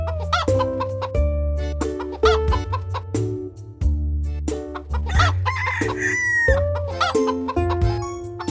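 Cartoon hens cluck repeatedly in a farm animal care video game, loud bright clucks and a crow-like call over a looping bouncy game tune, no speech.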